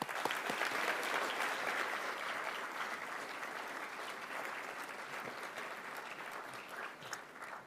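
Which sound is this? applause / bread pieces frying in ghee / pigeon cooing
applause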